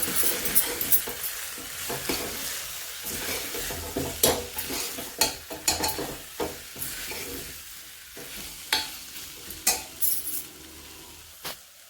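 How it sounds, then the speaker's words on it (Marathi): Ground turmeric, coriander and cumin powder sautéing in a pan for a horse gram amti, with steady close sizzling and repeated sharp scrapes and clinks of a spoon stirring against the metal pan throughout. "आता हे आपण परतत आहोत"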